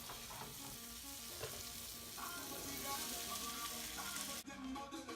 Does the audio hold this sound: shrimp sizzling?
yes